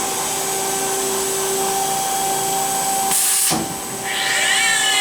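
A Weldon 1632 Gold CNC universal cylindrical grinder starting its cycle, a steady loud machine whine with tonal hums, a brief hissing burst near three seconds and a sweeping higher-pitched rise afterward.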